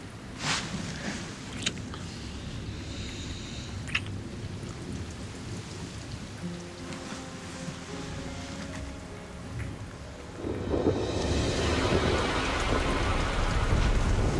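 Thunderstorm with steady rain pouring, scattered cracks and rumbles of thunder, and the downpour swelling louder toward the end, with no voices.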